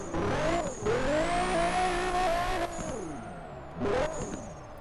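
A 350Z-style car in the Hashiriya Drifter game, its engine revving and pitching up and down through a long handbrake slide, loud and close, with the revs dipping and climbing again.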